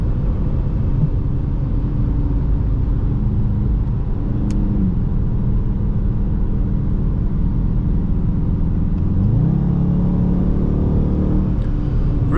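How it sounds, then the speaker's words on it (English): A 2021 Dodge Charger R/T accelerating on the road, heard from inside the car: a continuous low engine rumble with rising revs and a noticeable pitch sweep near the end, loud and steady throughout without any talking. "Love the way this RT pulls."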